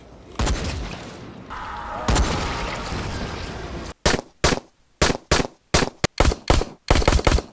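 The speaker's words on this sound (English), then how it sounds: "What's funny about the sounds of the guns that I didn't really notice until I was doing this video is they sound really off." Gunfire from a PS5 horror video game: a sustained loud, rumbling barrage, then a string of about a dozen sharp, separate shots, close and loud with no talk.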